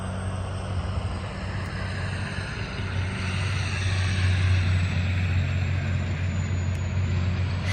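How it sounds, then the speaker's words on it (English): Heavy log trucks roll past on a nearby road, a loud continuous low engine rumble with broadband road roar that swells slightly midway, no voices present. "These dang log trucks are so loud."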